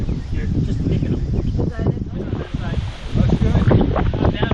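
Strong wind buffeting the microphone on a golf course in Maui, a loud, continuous gusting roar with people talking underneath.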